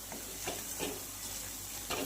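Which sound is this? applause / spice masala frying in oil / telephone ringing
spice masala frying in oil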